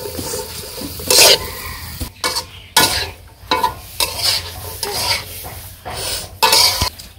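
Vegetables seasoned with turmeric, dried red chili and green chili stir-fried in a pan, a steady sizzle broken by loud bursts of spatula scraping and clanking against the metal pan, close up with no talk.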